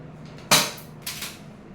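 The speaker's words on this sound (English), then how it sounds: "Now shoot all the bullets with the laser light." Realistic toy pistol firing plastic bullets, a sharp loud crack followed by a second softer snap about half a second later, with quiet room tone between.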